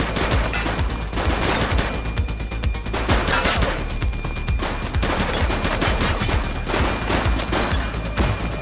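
Dense, continuous gunfire fills a shootout with police in The Precinct, rapid overlapping shots and bursts crackling loudly and without pause throughout.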